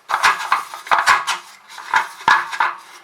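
An idli maker is handled while its moulds are greased with oil, giving a series of close metallic clanks and rattles in uneven bursts.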